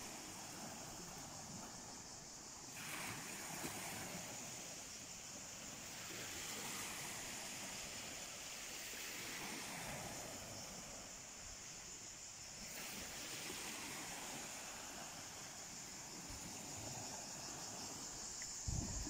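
Sea waves on the Turkish coast at dawn wash in steadily on a slightly choppy morning, a continuous close surf with soft swells and wind buffeting the microphone throughout.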